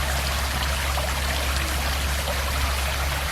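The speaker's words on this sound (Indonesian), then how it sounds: "Lihat air mengalir deras, bening" A waterfall in Japan with clear water flowing strongly gives a constant, full rushing roar close by, steady throughout with no voices.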